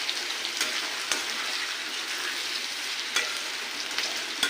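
A coconut powder mixture fries in oil while being stirred, a dense steady sizzle broken by a few sharp scraping clicks of the spoon, close and without voices.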